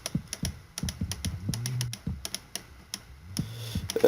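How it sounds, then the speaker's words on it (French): Rapid computer mouse clicks mixed with tablet taps come in irregular bursts, close and fairly quiet, while someone plays a hardcore Minecraft survival game, with no talking. "vous devriez entendre plus les clics de souris aussi parce que ma tablette est vraiment juste à côté de ma souris"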